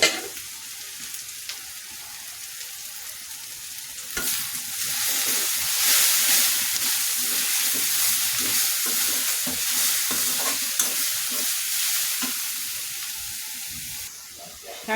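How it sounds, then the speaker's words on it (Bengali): Fresh helencha greens (shak) hitting hot oil in a pan and frying, a loud steady sizzle and hiss with repeated stirring scrapes, rising after the leaves drop in, with someone speaking briefly. "শাকগুলো এভাবে আমি বাগার দিয়ে নিলাম"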